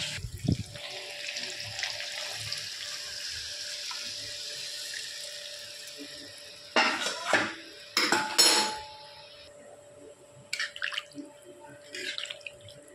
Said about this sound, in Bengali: এই গরম জলটা দেবো, কাঁচা জল দেবো না